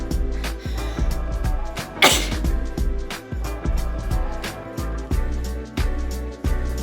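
A single sharp sneeze bursts out about two seconds in, loud and alone over steady rhythmic background music with a beat.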